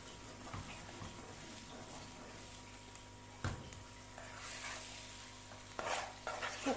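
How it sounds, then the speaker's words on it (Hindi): Date halwa is stirred and roasted in a pan, with a low sizzle, a spoon scraping and mashing the dates, and a few louder clacks against the pan, all close by. No speech. "देखिए अच्छी तरह से हम इसको भून रहे हैं।"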